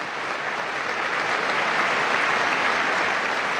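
Steady, dense applause from a large audience at the 2026 State of the Union address, loud and continuous with no break.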